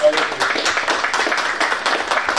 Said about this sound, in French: une main d'applaudissement pour le travail de Louise